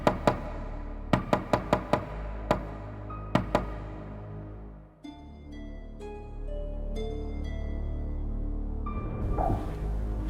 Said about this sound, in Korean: 무슨 노크 소리 같은 거 들리는 것 같지 않아요?